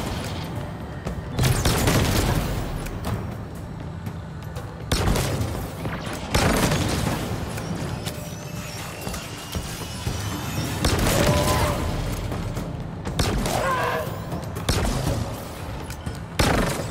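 Rapid bursts of gunfire and booming blasts fill a Halo Infinite campaign firefight, repeated volleys with heavy low thumps and crashes, loud and close, with no talking.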